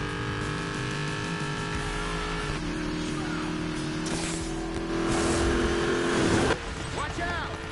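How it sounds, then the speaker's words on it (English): A Dodge Demon accelerating hard while a person talks. The engine roars and revs rise and drop with each gear change, and the turbo whooshes and flutters between shifts, loud and close. "So you can hear the turbo. Every time I switch gears, there's a turbo."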